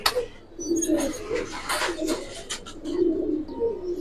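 Gribaz and racer pigeons give low, rolling coos, repeated in several soft bursts close by with no talk.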